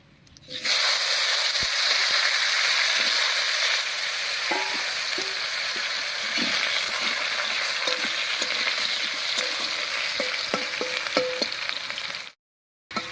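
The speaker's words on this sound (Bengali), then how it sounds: "ভাজা হয়ে গেছে এবার এর মধ্যে দেবো কেটে রাখা আলু" Cut potatoes dropped into hot oil in a wok, a loud continuous sizzle that starts suddenly and holds steady with occasional utensil clinks and scrapes, ending abruptly.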